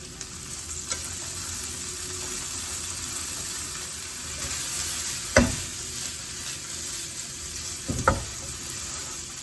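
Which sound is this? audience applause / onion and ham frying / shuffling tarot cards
onion and ham frying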